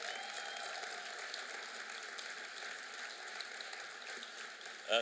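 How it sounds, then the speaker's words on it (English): An audience applauds a university gospel choir at a city event in Richmond, Virginia, a dense, steady wash of clapping at moderate distance that holds evenly throughout, with a brief louder bump at the very end. "let's give them another round of applause"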